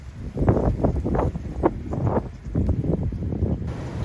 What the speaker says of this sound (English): We got a beautiful day for January, but the wind is testing it.